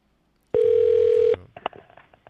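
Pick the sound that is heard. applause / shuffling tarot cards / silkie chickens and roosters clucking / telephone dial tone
telephone dial tone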